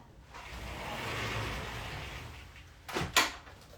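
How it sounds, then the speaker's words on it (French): A French window in a home is pushed shut, a soft rolling slide over a quiet room hiss followed by a short sharp knock as it closes, with no talking. "Je vais juste fermer ma porte-fenêtre"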